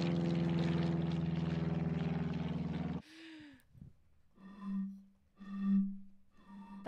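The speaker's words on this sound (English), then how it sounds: "That is the sound of someone blowing air through a water bottle." Breathy, hollow tones from air blown across a water bottle, played as a sample: a short whooshing onset followed by three separate resonant hoots with gaps between them, after a loud stretch of other sound.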